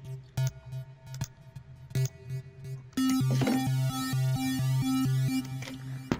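A synth melody plays over light ticking percussion, then an off-beat synth bass line joins partway through, thickening the sound into a steady, pulsing electronic loop.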